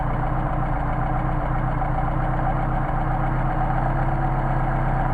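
Mercedes 190SL engine idling on machined Solex carburetors in 29°F cold, a steady, close, even rumble holding its pace throughout with no voices over it.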